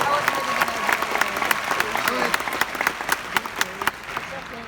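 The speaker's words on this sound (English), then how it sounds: "Let's give them a round of applause." An audience breaks into applause, a steady wash of many hands clapping for several seconds with sharper individual claps standing out and some talk mixed in.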